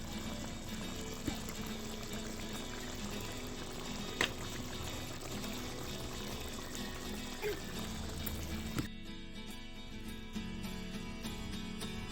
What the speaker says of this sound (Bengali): রান্নাটা এখন ঢেলে নেব।